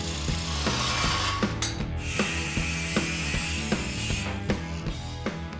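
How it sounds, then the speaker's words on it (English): Power tool cutting the end off a metal part in a custom garage build, a steady grinding whine with repeated rhythmic clicks and knocks throughout, fairly close. "So I'm gonna cut the end of this off and see what it looks like."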